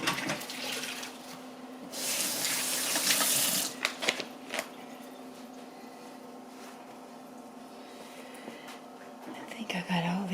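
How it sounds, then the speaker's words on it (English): A kitchen tap gushes briefly as fingers are rinsed of raw egg, a short loud splash of running water near the start, followed by quieter handling sounds and faint whispering. "Got to wash the egg off my fingers."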